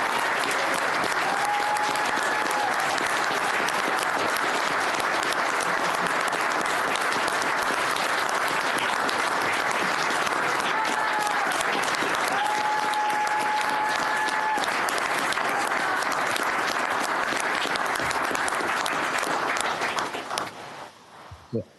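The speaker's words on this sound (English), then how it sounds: "So it deserves applause." Sustained audience applause at a city council meeting, loud dense clapping from a full chamber lasting about twenty seconds before tapering off, with a faint tone and murmurs beneath.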